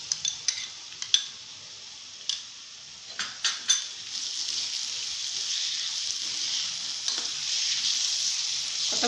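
Onions and freshly chopped coriander leaves frying in a pan for mango rice. A few sharp utensil clinks come first, then a dense, even sizzle swells and carries on close by.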